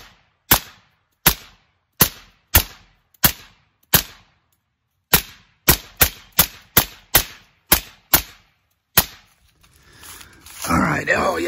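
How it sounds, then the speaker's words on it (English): Eleven loud, sharp gunshots are fired one at a time into AR500 Level III steel body armor, evenly spaced with a few quicker pairs, followed by voices and shuffling. "And we can just start firing away."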